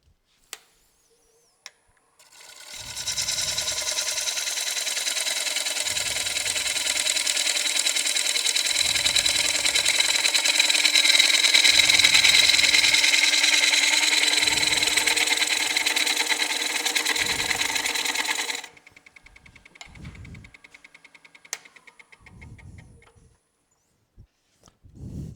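A 5/8 gouge with a blunter bevel cuts a wood bowl blank on a lathe, a steady loud shearing roar lasting about fifteen seconds with rhythmic low thumps, then stopping to a quiet hum with faint clicks.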